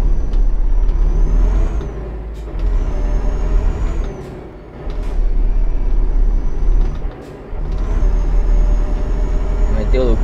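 A truck in the Euro Truck Simulator 2 video game, its deep engine rumble broken by several loud, sharp air brake hisses and releases, with dips as the truck slows and then pulls away again.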